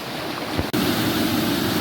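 A small waterfall about six or seven feet high in Marsden Clough, Peak District, rushes with a loud, steady, close roar of falling water, with a brief dropout partway through.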